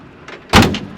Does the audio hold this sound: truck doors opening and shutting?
yes